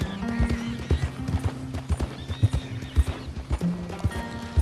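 Horse hooves clip-clop steadily in the video game Red Dead Redemption 2, a regular rhythmic trot heard close, with a short whinny and faint ambient game sound underneath.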